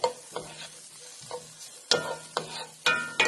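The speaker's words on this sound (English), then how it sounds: "And you can just saute, okay?" Food for tofu scramble is stirred and sautéed in a frying pan, with soft sizzling broken by several sharp scraping stirs of a utensil, close up and with no talking.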